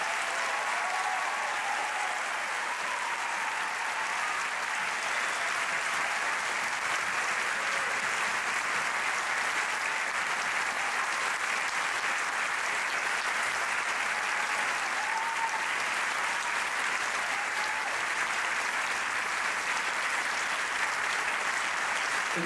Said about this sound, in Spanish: estos muchachos merecen otro caluroso aplauso por el excelente